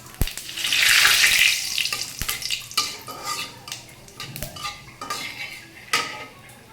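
Cumin, cinnamon and bay leaf frying in oil with fried soybean chunks, stirred in a pan for a vegetarian potato and soybean dish: a loud sizzling burst, then repeated clinks and scrapes of a utensil against the pan.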